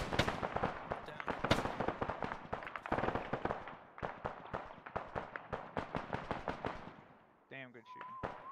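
Dense gunfire in the Cold War era ARMA mission Wounded Bear, with rapid, irregular rifle cracks and bursts from near and mid distance running nearly throughout, under occasional talk and a brief electronic tone near the end.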